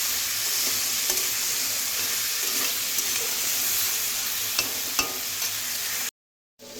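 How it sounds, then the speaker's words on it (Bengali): Potato pieces fry in oil with salt and turmeric in a pan. A dense, even sizzle fills most of the stretch with a few faint stirring ticks, then cuts off abruptly into a brief silence near the end, with no speech. "আলুগুলো সুন্দর করে ভেজে নিয়েছি"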